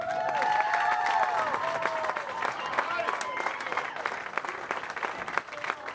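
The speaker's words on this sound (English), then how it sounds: "another nice round of applause for our finalists" An arena crowd at a state marching band finals gives the finalists sustained applause, dense steady clapping throughout with a few faint voices and cheers mixed in.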